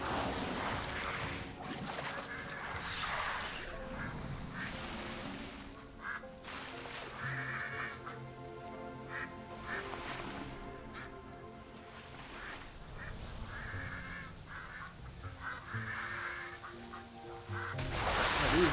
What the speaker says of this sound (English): Well, these birds are obviously not having fun here.